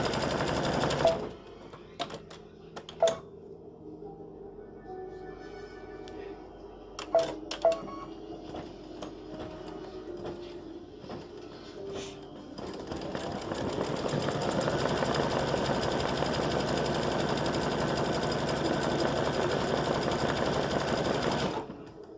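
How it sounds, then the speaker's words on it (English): An embroidery machine stitches the word "our" in black thread for a Bless Our Home mug rug, opening with sharp isolated clicks and thumps, then settling into a steady, loud, continuous whir of rapid stitching. "color number 12 is going to stitch the word hour"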